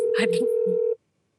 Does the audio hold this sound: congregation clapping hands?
no